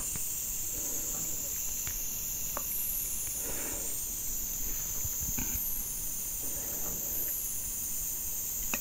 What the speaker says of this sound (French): Faites des grandes inspirations, expirations.